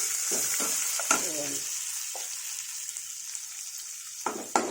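Tamarind fries in a pan before coconut goes in for an amla coconut chutney, producing a continuous hiss of hot oil broken by a few brief scrapes and knocks of a spoon against the pan.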